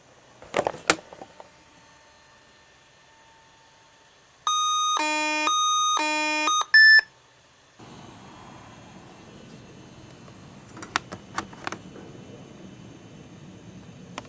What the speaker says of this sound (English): Ever wonder what the critical battery alarm sounds like when you're in the BIOS of a ThinkPad when the battery is critically low?